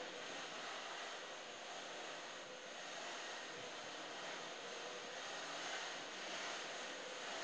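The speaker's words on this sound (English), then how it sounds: "Can you hear that machine, how fast it's going?" Fast, continuous mechanical whirring from a long-arm quilting machine, an even broadband hum with no pauses, heard from a short distance and fairly quiet.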